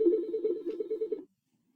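A telephone rings in a lecture setting, a short run of rapid electronic ring pulses lasting just over a second before cutting off into silence.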